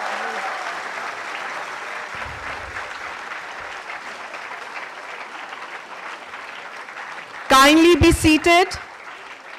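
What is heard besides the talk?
audience applauding dignitaries at a launch event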